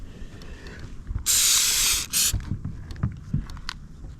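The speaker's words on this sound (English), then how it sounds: "We're gonna spray the front here, and we're gonna spray all these holes right here." Two loud bursts of aerosol spray coating hiss onto a cracked kayak, a long one then a short one, with quiet handling clatter and knocks around them.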